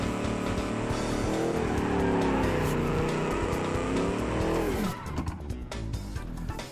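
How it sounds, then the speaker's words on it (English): A car in BeamNG.drive with a seven-litre V8 engine revs hard after a clutch dump in second gear. Its tires squeal and spin loudly and steadily for several seconds before the screech cuts off and the engine note drops. "if I clutch dump you in second gear, are you gonna still spin the tires"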